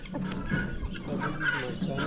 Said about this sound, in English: Another cock there, right there.